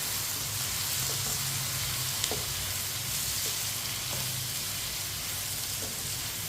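Cabbage and potato sabji cooking in a pan with spices, steady soft sizzling with a few scraping stirs, close and quiet, no talking.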